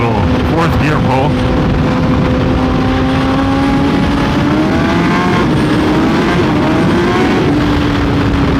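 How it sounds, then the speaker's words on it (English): A Kawasaki ZX-10R motorcycle pulls hard in 4th gear, its engine note rising steadily and loudly as it accelerates, with heavy wind rush over the close, continuous roar. "I'll do a little 4th gear pull."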